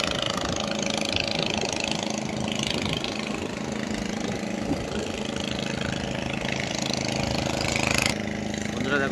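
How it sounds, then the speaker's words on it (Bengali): A boat motor runs steadily on a river where fishermen haul nets, a continuous mid-pitched engine drone with no pause and a slight rise near the end. "বোট করে যাচ্ছে বন্ধুরা, দেখো।"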